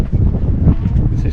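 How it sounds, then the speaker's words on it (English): Strong wind buffets the microphone on Delos island, a steady low roaring rumble that runs through the whole short stretch without letup. "it is fucking windy"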